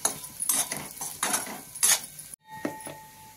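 A spoon stirring potato bhaji with crushed peanut powder in a pan, several close metallic scrapes and clinks against the pan in quick succession, then a brief break and a couple more scrapes.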